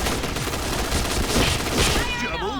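Dense, continuous gunfire crackles and bursts from a video game, an AUG A3 assault rifle, loud and close, with rapid shots blending into a steady barrage.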